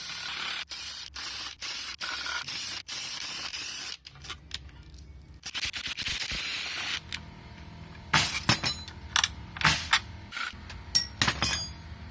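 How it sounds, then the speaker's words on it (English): An impact gun loosens bolts from a VW Passat engine during teardown. Rapid hammering bursts start and stop several times, close and loud, with clanks and rattles between them. "I'll go ahead and use the impact gun."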